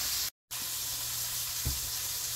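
A chuck roast sears fat side down in a hot pan, giving a steady, close sizzle that runs throughout with one short dropout and a faint clunk near the end.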